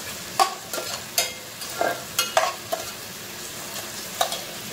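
Onion and tomato sautéing in a pan for a Konkani-Malvani black pea and fresh cashew usal, with a soft steady sizzle and scattered sharp spoon scrapes and clicks against the pan, close and fairly quiet, no voices.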